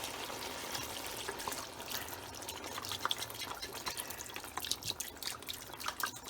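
Bone broth pours from a quart container into a stovetop pot of pork for chile verde, a soft continuous liquid trickle with splashy drips, fairly quiet and close, without talking.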